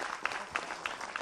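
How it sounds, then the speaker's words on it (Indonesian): A studio audience at an Islamic religious talk programme gives brief, faint applause, its soft clapping marked by a few evenly spaced louder claps over about a second. "Tepuk tangan dong Pak Ustadz Maulana"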